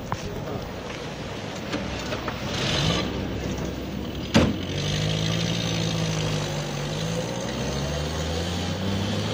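A car travelling along a rough road to Taïragué gives a steady engine drone with shifting pitch and a sharp bump or knock midway, accompanied by background voices and noise.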